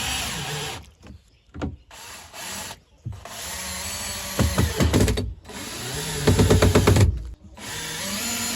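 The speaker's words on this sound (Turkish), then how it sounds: "Depoyu pullu vidalar ile içten ahşap kafese sabitliyorum." A power drill drives washer-head screws through a plastic tank into a wooden frame, giving close, loud whining bursts of the motor and grinding screw bites, separated by short quiet gaps.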